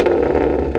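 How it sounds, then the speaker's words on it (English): A 1,000hp BMW M3 engine holds a loud, steady rev in a brief burst, close to the listener, with no talk. "Can you give it a little rev?"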